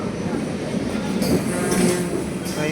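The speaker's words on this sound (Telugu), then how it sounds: "సో ట్రైన్ అయితే స్టార్ట్ అయిపోయింది." A packed Indian passenger train begins rolling out of the station with a steady low rumble and rattle of the carriages, along with a faint high squeal, while people talk nearby.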